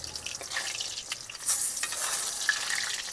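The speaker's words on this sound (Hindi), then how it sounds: "हाँ दोस्तों महाराज जी की पकौड़ी प्रसादी पकने लगी।" Besan pakoras frying in hot oil, a close, continuous hiss and sizzle with occasional stirring, no voices.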